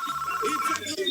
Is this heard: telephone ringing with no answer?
yes